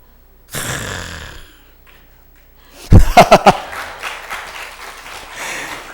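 A church congregation at a young adults' service gives a short burst of applause, a handful of sharp claps standing out above a rustling crowd, with a brief breathy vocal sound just before.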